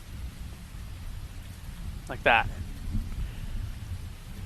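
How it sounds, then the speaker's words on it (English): Steady rain hiss with low rumbling thunder in the background of a tabletop role-playing game session, with a short voice passage breaking in partway through. "It starts to rain with bits of thunder cracking in the background."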